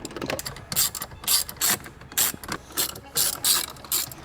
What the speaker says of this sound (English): we can reinstall those 7mm screws